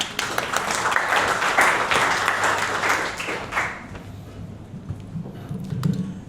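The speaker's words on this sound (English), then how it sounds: "let's give a big round of applause one more time for Mr. Dylan." Audience applause at a corporate event, a crowd clapping steadily and fairly loud for several seconds before thinning out, with a voice faintly beginning under the fading claps.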